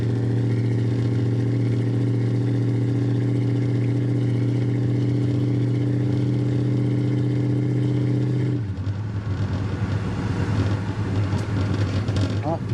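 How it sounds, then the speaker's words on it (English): A 1964 Pontiac GTO with its original 389 V8 and automatic transmission drones steadily while driving, a loud low rumble that changes character near the end as the engine note shifts and road noise grows. "Today we are in my 1964 Pontiac GTO with the original 389 and a automatic transmission behind it."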